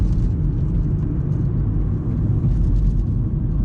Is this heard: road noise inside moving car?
yes